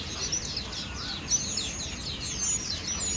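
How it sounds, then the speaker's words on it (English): Many small birds chirp and tweet in an aviary at a Singapore bird park, a dense overlapping chorus of high, quick calls that carries steadily throughout at moderate volume. "Lots of little birds in here."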